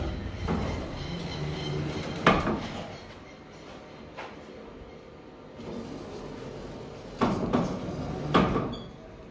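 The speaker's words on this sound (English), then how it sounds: "Automatic doors." Automatic sliding doors at the entranceway of an aged care facility glide and thump open and shut, several sharp knocks and rolling rumbles over a quiet indoor hum.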